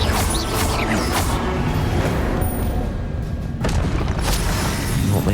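Confringo fire-spell blasts in the Switch version of Hogwarts Legacy, a dense rumbling boom texture with several bursts, loud and continuous across the clip with no talking over it.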